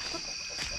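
A chicken clucks close by, giving short soft calls and then a sharper cluck at the end over quiet farmyard background, with no one talking.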